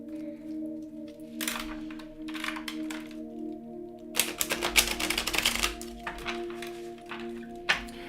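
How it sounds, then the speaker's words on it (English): A deck of tarot cards shuffled close by, with short papery riffle bursts early on and a longer, louder flurry of snapping card noise midway, over a faint steady hum. "give these one good shuffle"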